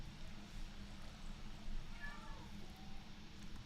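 Cats meow faintly in the distance, one short drawn-out meow rising and falling over a low, steady background rumble.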